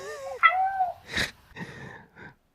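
A cat meows several times up close, with rising and falling tonal cries, then gives a sharp sneeze-like burst and a few shorter, breathy vocal sounds.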